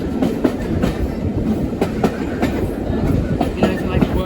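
A train on the Great Central heritage railway rolls past close by, its wheels beating out a steady clickety-clack over a loud, continuous rumble.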